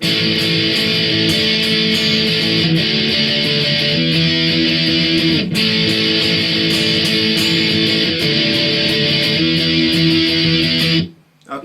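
A guitar plays the bridge of a song as a busy, continuous strummed passage at an even volume, with one brief dip partway through, ending suddenly near the close.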